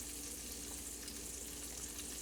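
Bacon sizzles and spits steadily in hot grease in a pan, a close, continuous frying hiss with no talking.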